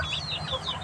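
Chickens in a backyard flock cluck softly and continuously nearby in a short burst, with no voices alongside.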